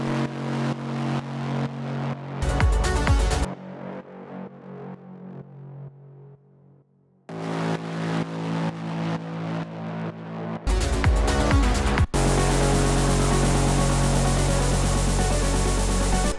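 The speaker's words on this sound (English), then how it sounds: "Then we have the break bass, which is also playing in the drops a little bit" A heavy, distorted break bass synth plays in rhythmic chunks with gaps between, ending in a sustained gritty buzzing tone.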